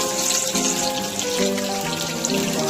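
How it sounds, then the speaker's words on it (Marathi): Chopped garlic hits hot oil in a pan for chicken methi bhaji, giving a steady, close hiss and crackle with no pause and no one speaking. "तेल गरम झालेलं आहे मित्रांनो, आपण याच्यामध्ये चॉप केलेलं लसूण घालून घेऊया।"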